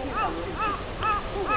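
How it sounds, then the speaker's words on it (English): Crows caw four times in an even rhythm above the trees near a mountain hot spring, clear against a soft background. "The crows."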